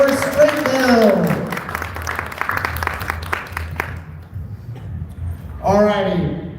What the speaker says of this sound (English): give a round of applause for our second place for straight build.